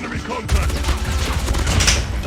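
Rapid bursts of gunfire from the OTs 9 gun in Call of Duty Mobile crackle and thump continuously, dense and loud, like automatic weapons firing up close.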